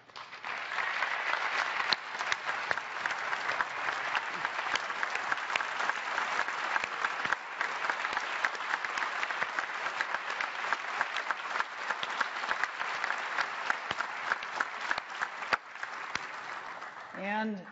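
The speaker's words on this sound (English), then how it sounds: "so we could give you a round of applause" A large audience at an Apple special event for the iPad 2 gives sustained applause: a dense, even wash of clapping holds steady for about seventeen seconds, heard from a distance across a big hall.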